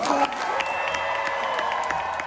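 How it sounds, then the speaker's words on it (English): Crowd applauding and cheering as the Jonas Brothers are welcomed onstage at a live event, a dense, continuous wash of clapping and shouts at moderate volume. "Please give a round of applause to Kevin,"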